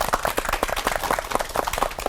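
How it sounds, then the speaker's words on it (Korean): Audience applause for three pastors at a CBS TV Bible lecture on the Book of Judges, heard as dense, steady clapping from a studio crowd that carries on through the whole moment. "세 분 목사님께 큰 박수 보내드리고 싶습니다"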